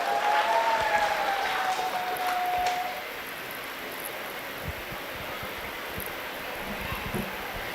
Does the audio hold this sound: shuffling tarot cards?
no